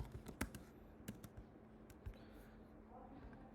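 Computer keyboard keys clatter in quick, uneven bursts of taps that trail off into a quiet room, faint and close-miked, as Playwright Java code is typed.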